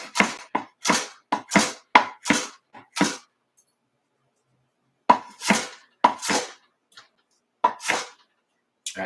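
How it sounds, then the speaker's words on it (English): A knife chops an onion on a cutting board in quick bursts of sharp, close knocks separated by short pauses, with no talk. "we got our onion all chopped up"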